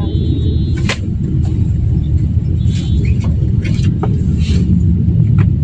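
Low, continuous rumble of road traffic from inside or beside a vehicle, engines droning close and loud with a few faint higher clicks and chirps, no clear talk over it.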